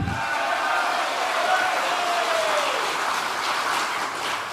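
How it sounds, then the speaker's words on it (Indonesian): Crowd clapping at an Indonesian political event, a continuous wash of applause and cheering voices, fairly steady and moderately loud, with a brief whistling tone rising over the noise. "Tepuk tangan lagi."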